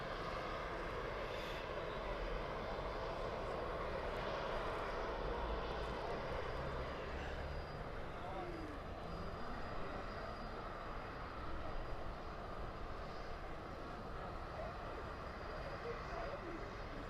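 An aircraft's auxiliary power unit runs at Birmingham Airport, pushing out a continuous, even rushing drone through its exhaust at moderate volume with no breaks.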